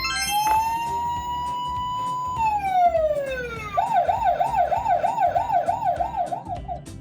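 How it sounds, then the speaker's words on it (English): A toy puzzle's ambulance piece plays an electronic siren: a rising tone, a falling sweep, then a fast warbling wail, clear and close with no talk over it. "Oh, it was a cool siren."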